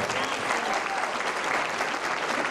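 Steady, dense applause from a large audience at a university graduation ceremony, unbroken and even in loudness throughout.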